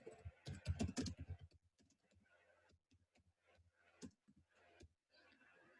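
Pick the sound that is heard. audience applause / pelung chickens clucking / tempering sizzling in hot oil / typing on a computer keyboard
typing on a computer keyboard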